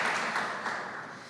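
A church congregation claps together in a short burst of applause, a dense, even patter of many hands that fades slightly toward the end.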